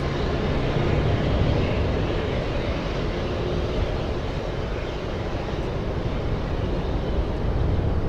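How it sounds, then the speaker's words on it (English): An Air India airliner on final approach to runway 28 right at San Francisco International Airport makes a steady, broadband jet roar. The sound stays constant and fairly loud throughout, with no talk. "we do have Air India on final approach"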